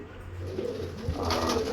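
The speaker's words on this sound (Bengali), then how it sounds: "এটা হচ্ছে আমার কিছু ধারি পায়রা আছে" Kept pigeons give a short, low, throaty coo close by, rising in a soft rolling burst toward the end, with no talking.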